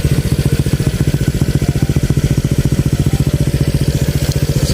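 A motorcycle fitted with a new Kaizo aftermarket exhaust idles close by, a loud, even, rapid putter of exhaust pulses that holds a steady rhythm throughout with no talking.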